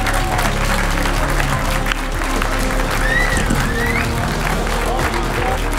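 A crowd at the Gfinity Arena esports grand final in CS:GO applauds and cheers Epsilon, a loud, sustained roar of clapping with scattered voices filling the whole stretch.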